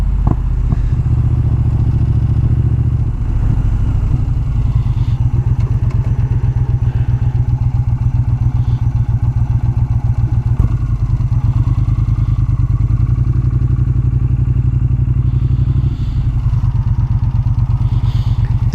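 A big, compact muscle motorcycle cruises at highway speed, its engine producing a loud, continuous low rumble with a steady throbbing pulse and wind noise throughout, with no voices.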